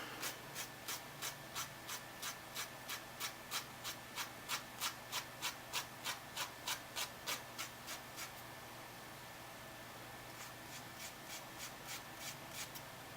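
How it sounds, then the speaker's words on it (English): A nail file rasps down the edges of nail wraps applied to fingernails, a quick, even series of close, soft scratchy strokes, then a brief pause and a few fainter strokes; no talking. "Always file in a downward motion."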